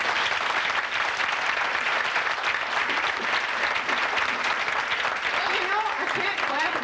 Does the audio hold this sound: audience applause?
yes